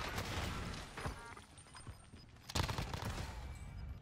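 Gunfire from an M4 rifle fitted with a 10-round magazine in a tactical shooter video game, with scattered shots and bursts over the whole stretch and a sharper, louder volley near the middle.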